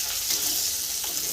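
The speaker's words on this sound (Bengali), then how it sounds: "মাছগুলো ভেজে নিব।" Fish fry in hot oil, a steady close hiss and crackle of sizzling filling the short moment without voices.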